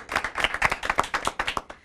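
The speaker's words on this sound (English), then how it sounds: "All right, so a round of applause for him." An audience claps for a debater on an Indian TV debate show about virtual versus traditional schools, a short burst of distinct, fairly quick hand claps from a modest group, close and steady without voices.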